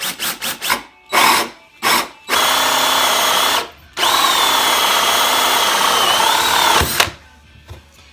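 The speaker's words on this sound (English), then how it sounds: "I'm just going to pick a good clear grain area and just start drilling into it" A power drill whirs in several short bursts, then runs in two longer sustained passes with a high whine as it bores into clear-grained wood for a homemade soil blocker.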